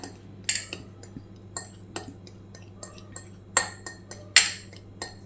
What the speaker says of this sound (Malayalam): ഇനി നമുക്ക് ഈ മഞ്ഞക്കരുവിനെ ഈ ഫോർക്ക് കൊണ്ട് ഇതുപോലെ നല്ലോണം ഒന്ന് ഉടച്ചെടുക്കാം